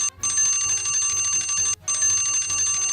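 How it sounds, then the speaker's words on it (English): An alarm rings loudly and continuously in a rapid, bell-like rattle, pausing briefly twice before resuming; nobody talks over it. "and now that's my alarm as well"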